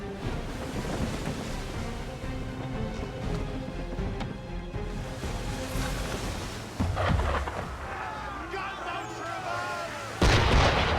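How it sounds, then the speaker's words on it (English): Ship cannons fire in Assassin's Creed III at sea, heavy booming blasts rolling over a constant roar of waves and wind, with a loud fresh burst near the end. "Why is he shooting at us?"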